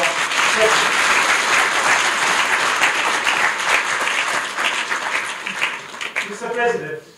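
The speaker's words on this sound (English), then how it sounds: "Once again, a warm clap for our president." A conference audience at the Southern Africa Mathematical Sciences Association meeting applauds its president, a full, close roll of many hands clapping that holds steady and then tapers off toward the end.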